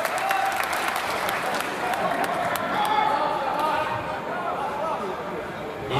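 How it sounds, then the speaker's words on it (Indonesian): A crowd applauds a moderator at an Indonesian religious gathering, with sustained clapping of even loudness over hall noise that fades slightly toward the end. "Tepuk tangan untuk moderator."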